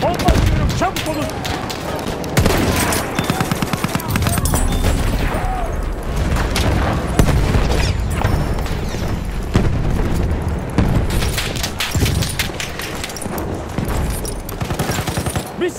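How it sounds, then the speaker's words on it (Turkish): Battlefield 1 combat in the video game: loud, close bursts of gunfire mixed with heavy bomb explosions and booming impacts, continuing in dense, overlapping volleys. "Bomba atıyorum, çabuk olun."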